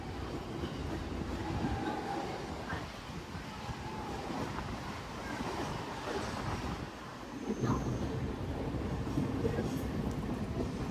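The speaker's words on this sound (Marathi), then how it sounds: "बघू शकता आता ट्रेनने चाललोय मी इकडनं." A Mumbai local train rumbles steadily from inside a carriage on a rainy day, a dense continuous roar of wheels and rails with faint clatter, loud and unbroken throughout.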